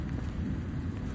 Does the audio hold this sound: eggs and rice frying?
no